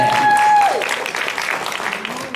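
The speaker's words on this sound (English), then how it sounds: "You should be applauded for that." Applause from the audience at a university alumni scholarship luncheon, a brief burst of clapping from a crowd in a hall that fades as a voice continues.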